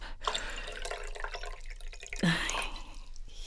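Sherry pours into a glass with a faint, brief trickle and splash, quiet and close amid soft room sound, with no talk over it.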